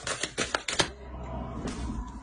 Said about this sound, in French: On va rajouter une carte avec le tarot.